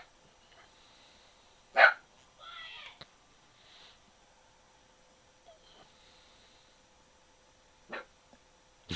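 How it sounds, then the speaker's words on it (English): Dogs bark a few times indoors during a casual online chat, with one sharp bark standing out, a couple of fainter yips later, and soft noises between them. "Oh, the dogs"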